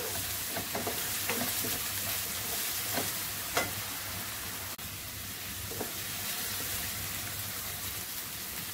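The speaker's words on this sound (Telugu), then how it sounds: "అల్లం వెల్లుల్లి పేస్ట్ వేసుకుందాము. దీన్ని కూడా బాగా ఫ్రై చేసుకుందాము, పచ్చివాసన పోయే వరకు." Ginger garlic paste fries with browned onions in a pan, a steady close sizzle broken by scattered stirring scrapes and clicks, with no voices.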